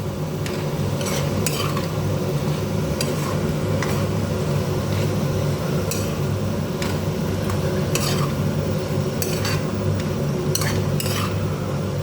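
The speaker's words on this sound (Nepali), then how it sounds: "लसुन र खुर्सानीको पेस्ट, यसलाई पनि मैले मजाले चलाउने छु।" Garlic and chili paste is stirred in a hot pan, giving a continuous sizzle broken by repeated scrapes and clinks of a utensil against the metal, with no voices.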